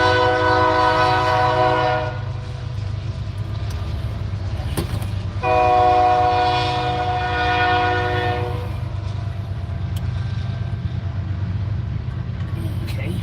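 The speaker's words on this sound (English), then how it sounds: "Train coming by here." A train passes nearby with a long, loud horn blast that sounds, pauses, then sounds again over a steady rumble of rolling railcars, heard outdoors beside someone working on a truck.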